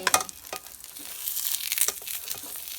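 Okonomiyaki batter sizzles and crackles in a hot pan just after being flipped, a steady bright frying hiss with a few sharper pops scattered through, close and moderately loud with no talking.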